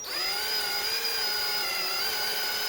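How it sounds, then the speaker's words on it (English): Power drill fitted with a carbide bit grinds into a steel wheel lock on a Fiat 500 Gucci, a loud, sustained high-pitched whine that holds steady throughout with no talking. "I did switch my carbide bit onto my actual drill"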